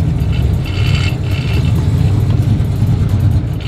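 A sequential-gearbox burnout truck's engine roaring at sustained high revs, loud and close, a steady heavy mechanical drone with no talk.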